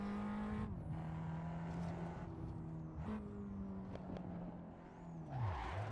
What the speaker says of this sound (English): The slightest tap and you're skidding along.